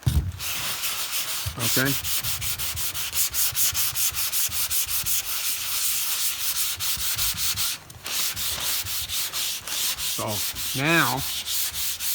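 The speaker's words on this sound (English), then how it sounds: "So when you're dry blocking, you got to make sure that the paper's always clean." Dry block sanding on a 1975 Ford LTD body panel with sandpaper, a steady, close rhythmic rasp of back-and-forth strokes that runs almost continuously, with a brief pause and short spoken remarks near the start and later on.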